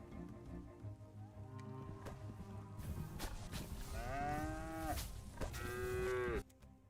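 Cow mooing in the Moo Lander video game, with two long, loud drawn-out moos over a busy game soundscape, no voices.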